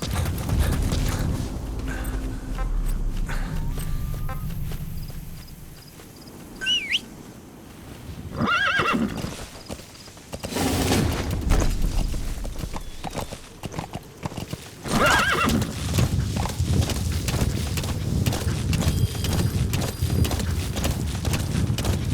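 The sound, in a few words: horse neighing and hooves, from a video game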